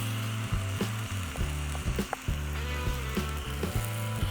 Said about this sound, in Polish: Do naszego kociołka Dutch Oven lejemy oliwę. Ważne, żeby był dobrze rozgrzany. I wrzucamy żebereczka.